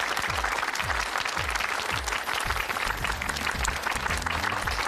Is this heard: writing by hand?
no